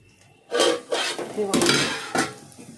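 A spoon scrapes and clanks in a pan while egg fried rice is stirred, with several loud, close metallic strokes in an uneven rhythm.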